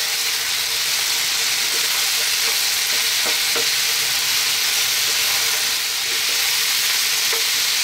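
White cabbage and potatoes for a potato cabbage curry sizzle hard in a pan over vigorous heat, a loud, steady frying hiss with occasional crackles and stirring clatter throughout.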